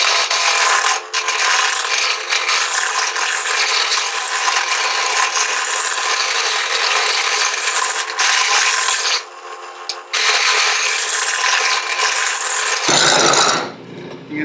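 A wooden top spins on a lathe while a cutting tool scrapes steadily across it, a continuous loud rasping broken by a few short pauses before the motor winds down near the end.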